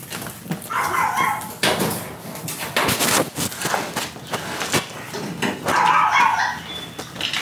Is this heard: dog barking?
yes